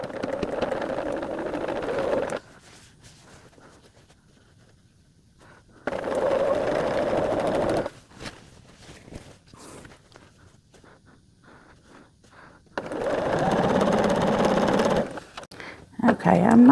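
A home sewing machine runs in three bursts of steady stitching on a quilt sampler block, separated by quieter pauses with a little handling noise; the machine is close and fairly loud.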